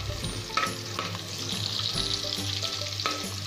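Garlic and onion sautéing in a pan for tomato garlic chutney, giving a steady close sizzle with a few sharp stirring scrapes and clinks throughout.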